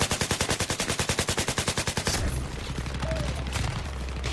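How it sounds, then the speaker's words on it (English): Rapid automatic gunfire in the video game Battlefield 3, a loud, close burst of evenly spaced shots for about two seconds, followed by a rumbling roar of game noise and distant shooting. "Ooh, somebody's shooting at me."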